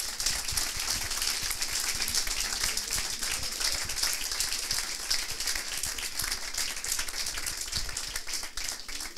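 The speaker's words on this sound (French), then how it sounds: "Bon bah, je pense qu'on peut les applaudir." Audience applauding after student app demo presentations at a coding bootcamp in Lyon, a steady, dense wash of clapping from a modest crowd that holds evenly throughout with no talk over it.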